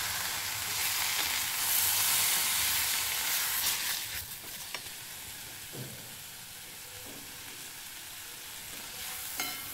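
Chopped tomato hitting hot oil in a pan for onion-tomato chutney, sizzling loudly at first, then settling into a softer, steady frying hiss with a few stirring scrapes close by.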